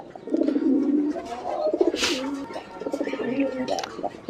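Fancy pigeons coo in a low, throaty rolling rhythm on a pigeon and poultry farm, several repeated phrases close by, with a brief rustle midway.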